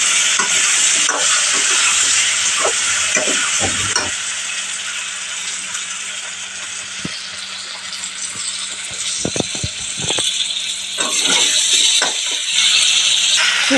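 Potatoes fry and get stirred in a pan at home, giving a steady loud sizzle with scraping spatula clicks and knocks against the pan throughout.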